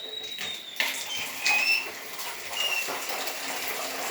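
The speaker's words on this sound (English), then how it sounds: "Sorry about the squeaky tap." A squeaky tap runs water into a container for dyeing fabric, with thin high squeals over a steady rushing stream that swells and eases in a few surges.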